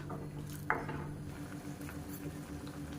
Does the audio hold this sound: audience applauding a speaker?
no